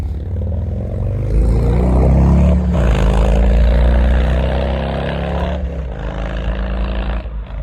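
A Harley motor trike on a test ride gives a loud, close engine roar that swells and rises in pitch, holds, then eases off toward the end.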